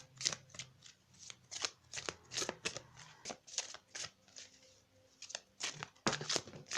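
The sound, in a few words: shuffling tarot cards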